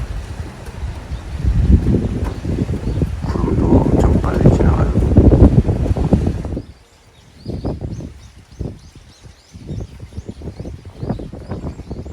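Strong gusty wind buffets the microphone for several seconds, then drops to quieter rumbling with softer intermittent gusts and light rustling.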